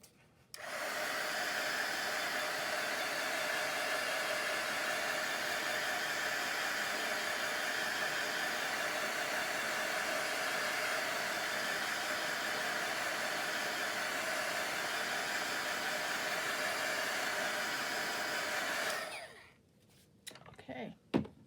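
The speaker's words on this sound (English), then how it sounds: "Heat gun one more time." A heat gun blows as one steady, loud whoosh of hot air for about nineteen seconds, then cuts off, leaving a few faint clicks and handling sounds at the end.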